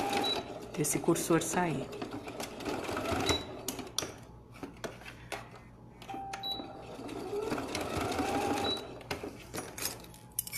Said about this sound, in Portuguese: Deixa eu só passar uma costurinha aqui para não correr o risco desse